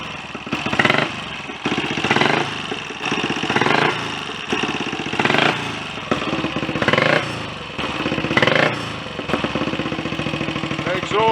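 A Royal Enfield Olympic 250 motorcycle engine idles while warming up after a top-end rebuild, with a rough, chugging putter, its revs swelling and dipping in a loose repeating rhythm, loud and close.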